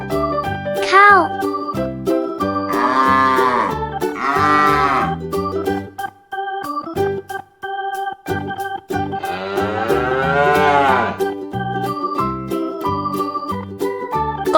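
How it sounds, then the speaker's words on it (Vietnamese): A cow moos three times over a cheerful, tinkling children's song: two closely spaced calls early on, then a longer, fuller moo after a brief lull, each call prominent and close. "Con bò."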